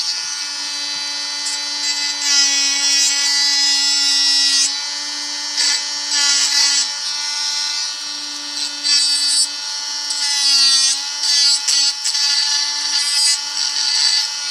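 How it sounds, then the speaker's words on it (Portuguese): A hand tool files the freshly cut edge of a hose clamp during a repair of a clothes dryer handle, giving a continuous bright rasping scrape in uneven strokes with brief pauses, close and fairly loud with no talking. "posso pegar aqui nesta mesma ferramenta e limar aqui um pouco a aresta da abraçadeira que foi cortada"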